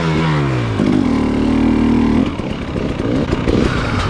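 A dirt bike revs hard while riding through soft snow, engine pitch climbing, holding high, then dropping into rough, sputtering, uneven bursts as the bike struggles for grip; loud and close, no talk.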